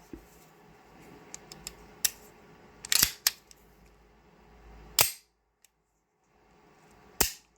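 A Beretta M9 pistol fitted with USGI parts gives several sharp, close metallic clicks and snaps from its hammer and slide, spaced apart over near silence.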